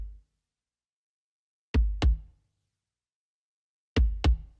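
Uncompressed acoustic kick drum in an indie rock mix, struck in two quick double hits with a gap between, each thump punchy and short with a low body, heard alone.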